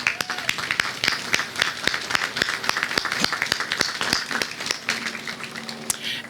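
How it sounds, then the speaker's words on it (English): An audience at a Veterans Day celebration in Hillsborough County gives a round of applause, sharp individual claps standing out in a steady, moderately loud patter that continues for about six seconds. "please join me now in a round of applause for our special guests and all in attendance"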